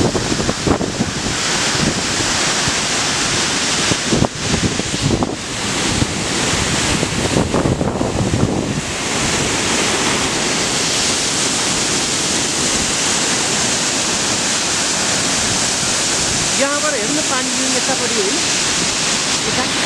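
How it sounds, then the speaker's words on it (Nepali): Sepli waterfall in Okhaldhunga, Nepal roars as a loud, continuous broadband rush of falling water, with wind buffeting the microphone at times and a few faint voices underneath. "झरना"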